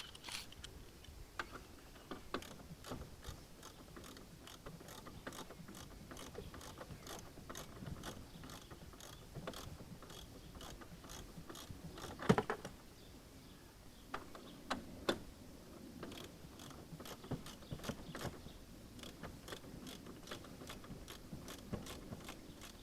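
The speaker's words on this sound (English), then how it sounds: "Sorry to bore you guys with undoing screws, or bolts." Screws or bolts being undone on a BMW F01 blower motor, a long run of rapid ratchet clicks in bursts with brief pauses, close and crisp over a quiet background.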